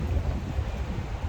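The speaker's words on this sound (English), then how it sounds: "And it's so windy. Suddenly it's so windy." Strong wind gusting through a forest near the Dune du Pilat in France, a steady low roar buffeting close against the microphone with no voices.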